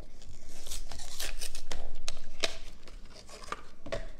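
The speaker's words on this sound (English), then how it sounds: "I'm just going to rip it up." A Topps Sterling trading card pack is torn open up close, with crinkly ripping and crackling wrapper noise, several sharp tearing bursts and steady handling throughout.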